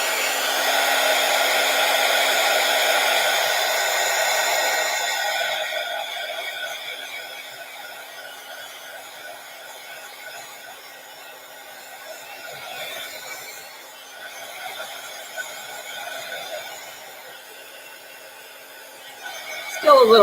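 A hair dryer blows steadily on wet paint on an envelope, a loud whirring hum at first that drops to a lower, softer setting and keeps running.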